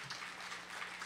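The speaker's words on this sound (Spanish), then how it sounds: "Recibamos con un aplauso" Faint, steady clapping from an audience at a school administration congress, a soft continuous patter heard at a distance.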